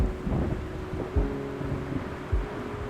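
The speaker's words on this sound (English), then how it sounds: "The thunderstorm was not stopping." Steady rain pours with low rumbles of thunder rolling through, a couple of deeper booms standing out against the constant downpour, in Georgia.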